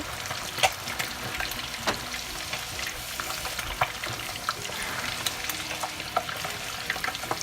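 Blended collard greens cook together in a pot for a Liberian dish, with a continuous bubbling sizzle and scattered clicks of stirring.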